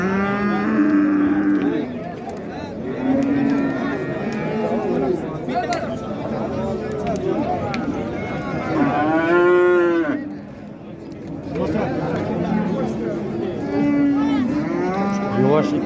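A dairy cow and her young bull calf at a busy livestock bazaar in Qarshi low repeatedly in loud, drawn-out moos, while people nearby talk and haggle throughout.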